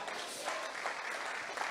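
A congregation at a Portuguese-language church sermon claps together in a steady, soft wash of applause that holds evenly from start to finish without rising or fading.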